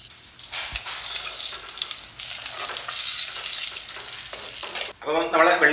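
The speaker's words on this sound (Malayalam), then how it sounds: "ഇനിയിപ്പോൾ നമുക്ക് വെളിച്ചെണ്ണയിൽ കടുക്, വറ്റൽമുളക് അത് വറവിടണം" Mustard seeds and dried red chilies crackle and sizzle loudly in hot coconut oil while being stirred, a steady frying hiss that ends in a brief splashy burst.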